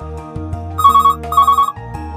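A telephone rings for an incoming call on a call-in show, sounding as two bright electronic ring bursts over a sustained tonal background, loud and close with no talk.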